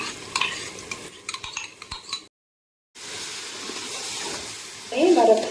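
Chicken pieces being stirred together with yogurt and spices for Hyderabadi chicken dum biryani, a spoon scraping and clinking against the bowl in short bursts, broken by a brief silence, with a louder scrape at the end.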